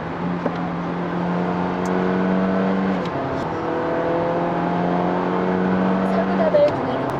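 A Hyundai Avante hybrid in sport mode accelerates, its engine note a steady humming drone that climbs, drops at a shift and climbs again, heard from inside the cabin.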